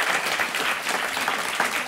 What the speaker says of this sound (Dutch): Geef haar hier in Spui 25 een warm applaus.